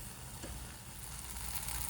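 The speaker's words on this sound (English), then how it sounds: "So I had not placed the lid this time, so it was still frying in open pan." Tomato onion chutney fries in an open pan with no lid, giving a steady, faint sizzle and crackle with no talking.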